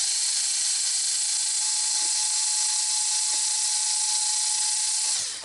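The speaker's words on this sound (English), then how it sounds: "going to drill a hole here, small hole, just to stop the cracking" Electric drill boring a small hole in the thick plastic body of a 1/8 Arrma Outcast RC car to stop a crack, a steady high whine held for several seconds before winding down, close and alone.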